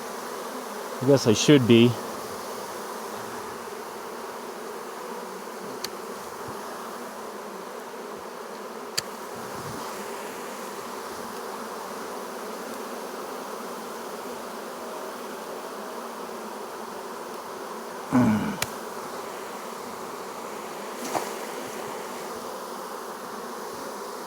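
Honeybees buzz around a hive box during a beekeeping split check, a steady close drone that runs throughout, broken by a couple of short bursts of speech.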